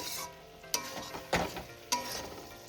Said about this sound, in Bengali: এবার আমি আলুর সাথে মশলাটাকে ভালো করে মিশিয়ে নেব আর গ্যাসের ফ্লেমটাকে এবার হাইতে করে দেব।